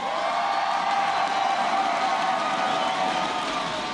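Crowd in a live esports arena at an Overwatch League match between the Los Angeles Valiant and Philadelphia Fusion roars in a steady, distant-sounding wash of cheering and shouts, sustained without pause.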